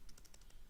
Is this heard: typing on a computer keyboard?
yes